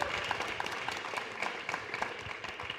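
Steady, fairly faint crowd applause at an outdoor Anti COP 2024 gathering in Oaxaca, Mexico, a continuous wash of clapping that holds evenly throughout.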